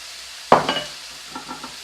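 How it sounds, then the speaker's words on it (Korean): A Korean-style pork chop steak with sauce is stir-fried in a pan, with a sharp clatter and sizzle burst, then softer scraping stirs, close by. "이거를 앞으로 이렇게 뒤집어주세요. 이렇게 볶아주세요."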